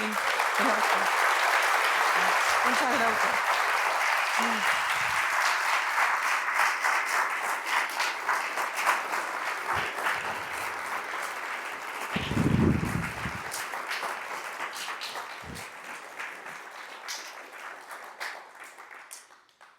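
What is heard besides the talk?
applause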